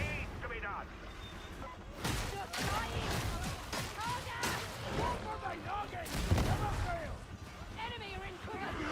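Explosive blasts and gunfire from a rocket launcher in the video game Warhammer 40,000: Darktide, with dense bursts of impacts and booms recurring across the stretch, loud and chaotic, with a voice talking over the action.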